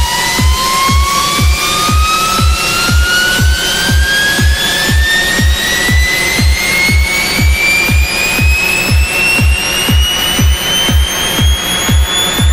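A tuned riser synth sound effect built in Logic Pro X. A bright tone glides slowly upward over a steady, pulsing beat of evenly spaced loud thumps, and it stays loud and alone throughout.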